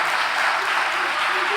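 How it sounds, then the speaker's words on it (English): Audience applause fills a hall of fame induction ceremony, a steady dense wash of clapping with some voices mixed in, loud and sustained throughout. "So, quick round of applause."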